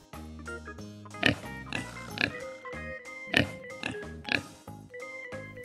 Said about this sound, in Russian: Свинка хрюкает.